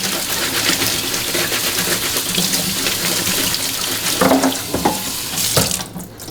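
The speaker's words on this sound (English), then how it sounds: "I like to rinse it through some cold water" Cold tap water runs steadily into a kitchen sink while raw shrimp are rinsed for buffalo shrimp dip, a continuous splashing hiss with brief clatters near the end as the flow shifts.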